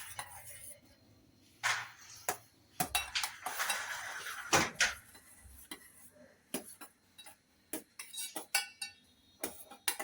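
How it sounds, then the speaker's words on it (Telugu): Spoon clinking and scraping against a pot while soup is mixed, with irregular metallic taps and knocks close by, some louder strikes scattered through; a voice talks intermittently underneath. "నెక్స్ట్ మళ్ళీ ఇంకా కొంచెం మిక్స్ చేసుకోవాలి"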